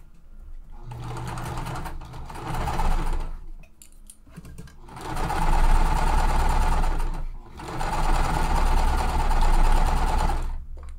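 Stitching quilt block pieces, a sewing machine runs in three close bursts of rapid needle clatter separated by short pauses.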